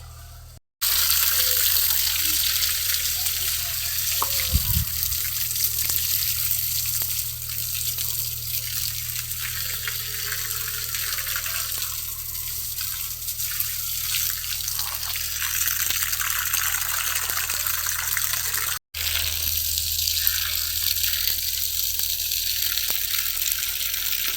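Steady running water pours continuously onto vegetable plants for the whole stretch, a broad hissing splash like a hose or tap, with only a couple of brief breaks.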